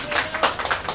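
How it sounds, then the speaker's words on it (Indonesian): A cooperative meeting audience gives the chairman a short burst of scattered clapping, with a voice mixed in. "Tepuk tangan dulu buat beliau"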